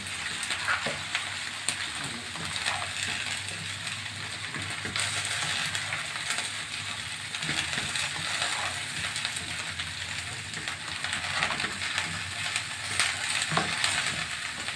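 Capsicum frying with salt, nigella seeds and spices in a pan for a capsicum potato dish, giving a steady close sizzle with scattered crackles and occasional scraping stirs throughout, with no talking.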